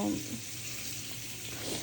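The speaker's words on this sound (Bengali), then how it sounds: "আগে একটু পেঁয়াজটা একটু ভাজা ভাজা করবো" Soft, low sizzle of onion frying in oil, faint and steady for a brief moment.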